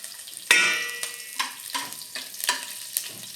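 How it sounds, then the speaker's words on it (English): Garlic cloves frying in hot oil with cumin seeds in a pan, a steady sizzle broken by several sharp spits and pops, close and fairly quiet. "It has to be fried."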